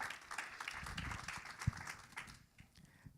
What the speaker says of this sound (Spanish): Aplauso para eso